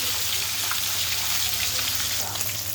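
Rohu fish frying in hot oil in a village kitchen, just flipped to its other side, giving a dense, loud, continuous sizzle with fine crackling pops throughout.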